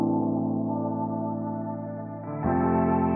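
Guitar sample under an automated steep low-pass EQ filter, starting muffled and dull, then opening up abruptly near the end into a brighter, fuller tone, playing alone with no voice.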